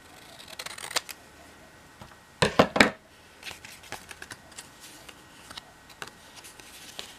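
Scissors trim small papers for matchbook notes in a series of faint, quick snips and paper rustles, with one brief louder cluster of cutting in the middle.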